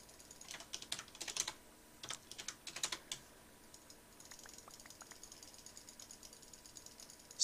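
Rapid bursts of mouse clicking while looting a chest in a Minecraft-style factions raid game, several quick clusters of sharp clicks early on, then lighter scattered clicks against a faint background hum.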